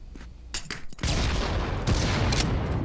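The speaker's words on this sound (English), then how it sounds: "A lot of grenades coming out now." Grenade blasts and gunfire in a competitive VR shooter match in Contractors VR: scattered shots at first, then a sudden heavy boom that opens into a sustained roar of explosions and rapid fire.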